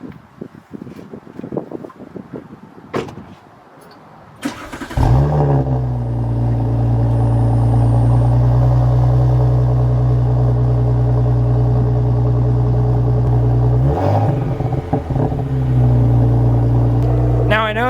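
A 2018 Audi S4 in dynamic mode fires up after sitting a few hours. The start is a sudden loud burst that settles into a strong, steady, deep idle with a brief rev flare near the end, and clatter and handling noise come before it.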